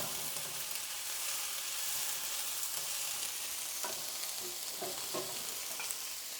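Ground beef frying on a gas stove, a steady broadband sizzle filling the whole clip with a few short stirring clicks and scrapes near the end, close and fairly loud, no talking.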